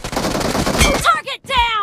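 Gunfire in BGMI team deathmatch on the hangar map: a loud burst of rapid automatic shots followed by game chatter and effects.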